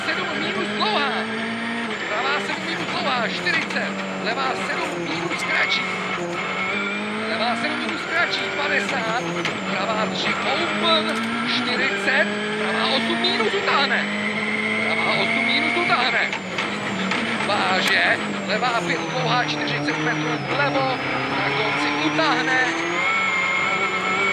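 Onboard a rally car on stage 10 of the Rallye de France Alsace 2013, Soultzeren to Pays Welche, the engine revs loudly through rising and falling gear shifts, with commentators talking throughout.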